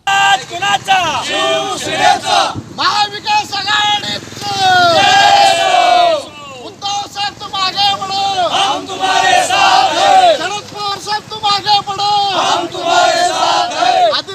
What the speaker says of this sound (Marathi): शिवसेना उद्धव बाळासाहेब ठाकरे गट आणि राष्ट्रवादी काँग्रेस शरद पवार गटाच्या वतीनं जल्लोष करण्यात आला